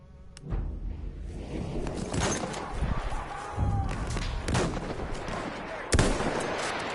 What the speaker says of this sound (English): let's use flare gun